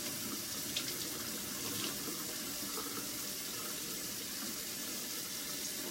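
Tap water runs steadily into a kitchen sink as frozen bananas are rinsed under it, a constant close splashing hiss with no voices.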